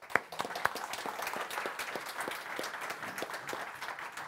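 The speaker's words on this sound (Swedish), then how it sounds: "Stor applåd." Applause from the audience for the panelists after a panel discussion opens with a few sharp, close claps, then settles into a steady, moderately quiet patter of many hands.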